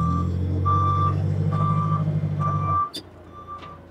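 Yale GLP040SVX LP propane forklift, a compact 4,000 lb unit, sounding evenly spaced reversing beeps over its running engine, which cuts out near the end while a few fainter beeps follow.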